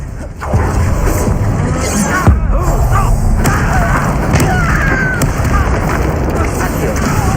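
Confringo spell explosions in the video game Hogwarts Legacy: loud booming blasts and thuds in quick succession over dense, continuous game noise, with a sharp burst near the middle.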